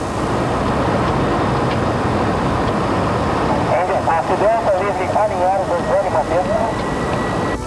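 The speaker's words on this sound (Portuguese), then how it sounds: "De helicóptero, percorremos uma das rotas de descida ao Santos Dumont" Helicopter in flight along an approach route to Santos Dumont airport, a loud steady rotor and engine roar throughout, with a voice talking over it in the second half.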